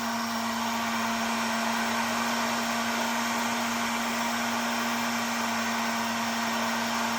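A heat gun blows a steady, loud, close hot-air whine with a constant hum while shrinking a heat shrink wire connector, continuous and unchanging, with no talking.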